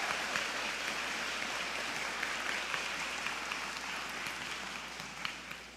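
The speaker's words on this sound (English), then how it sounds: "So maybe a round of applause for them as well." Applause fills a college graduation ceremony at Holland College, a dense, steady wash of many hands clapping at once. It holds evenly for several seconds and then slowly fades, heard from some distance with no voices over it.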